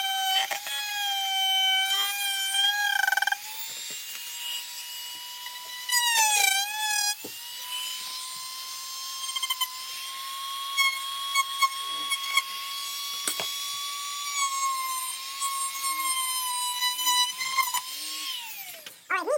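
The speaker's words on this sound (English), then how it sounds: "get my drill tool out and put my little sander blade on it" A power drill fitted with a small sander blade sands a surface. It gives a loud, continuous close whine with a bright harmonic edge, dips in pitch a couple of times, then spins down at the end.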